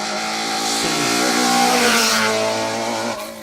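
A Toyota Corolla rally car on a stage of the 2023 Carryduff Forklift Down Rally revs hard, its engine note climbing steeply in pitch and loudness over a few seconds before easing off.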